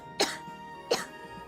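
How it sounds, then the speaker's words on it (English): Two short, sharp coughs roughly a second apart, close and fairly light, with quiet in between. "We still have the light cough here and there."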